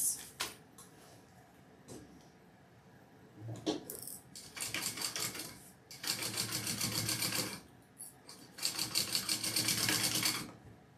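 Sewing machine stitching a seam on a Traveler Trifecta med bag, running in three rapid whirring bursts of increasing length, separated by clicks and handling noises, close and clear.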